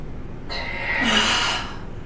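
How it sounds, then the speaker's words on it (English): Snorting, pig-like breaths during a yoga breathing exercise: a single forceful nasal inhale-exhale lasting about a second, close and fairly loud, with no talking. "Oh, little piggy snores."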